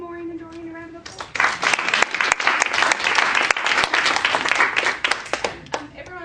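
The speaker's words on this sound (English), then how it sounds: "Can everyone just give Maureen and Doreen a round of applause?" An audience at a small community talk over tea and coffee bursts into applause after a woman's brief closing words. The clapping is loud and dense for about five seconds, then thins toward the end.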